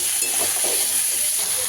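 Vegetables frying in a pan, a continuous close sizzle with faint scraping and stirring, steady and even throughout with no voices.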